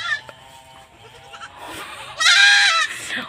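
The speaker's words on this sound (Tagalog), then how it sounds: "goat" A farm goat bleats several times, close and loud, with a longer, stronger bleat near the end and no talking.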